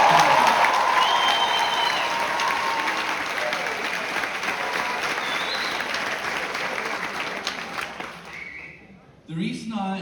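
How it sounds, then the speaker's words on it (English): Crowd at a valedictory graduation ceremony applauds the graduating class, a loud sustained wave of clapping and cheering that gradually fades, followed by a voice speaking at the end. "Can we give them a round of applause?"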